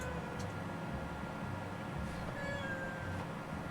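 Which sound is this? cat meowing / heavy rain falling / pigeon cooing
cat meowing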